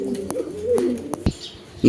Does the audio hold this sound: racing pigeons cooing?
yes